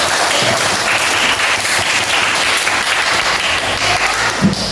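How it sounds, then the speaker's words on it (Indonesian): Sustained applause from a classroom audience of students, a dense steady clapping that continues evenly for several seconds with no talk over it. "Tepuk tangan buat semua."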